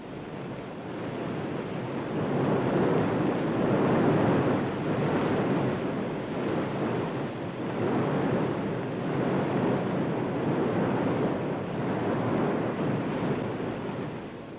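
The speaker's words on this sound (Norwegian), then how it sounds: "Her ser vi Rjukanfossen som den var." Steady, loud rushing roar of the Rjukanfossen waterfall in Norway, broad and constant with slight surges, no voices.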